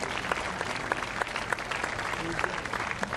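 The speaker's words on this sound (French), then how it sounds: "On les applaudit très fort." Crowd applause rings out at a cycling tribute ceremony, a loud, sustained burst of many hands with crisp individual claps popping through and some chatter underneath.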